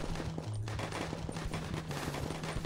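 Artillery fire in the Боевые гусеницы (Battle Caterpillars) game, heard as a rapid fusillade of crackling shots and thuds. The bursts overlap densely across the whole stretch at a moderate, fairly distant level.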